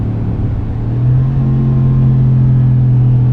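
A 2017 Ram Sport with a 5.7-liter Hemi V8 on overrun while driving, downshifting: a steady, deep, close rumble that swells slightly after a second and holds, with no talking.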